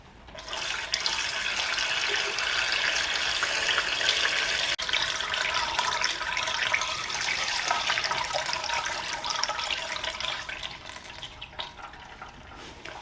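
Fuel pours steadily from a gallon container into the tank of a 2000 Katana 750 motorcycle, making a soft, continuous liquid rush that lasts several seconds before tapering off. No one speaks.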